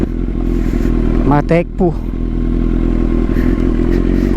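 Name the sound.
Kawasaki Z900 motorcycle with swapped exhaust canister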